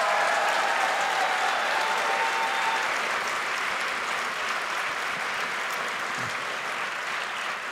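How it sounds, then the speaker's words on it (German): An audience in a theatre applauds continuously, a dense wash of clapping that stays steady and fairly loud before easing slightly at the end. "Das ist ein Applaus wert"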